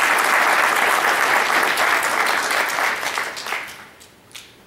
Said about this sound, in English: I'd like to just do a round of applause for all of the nominations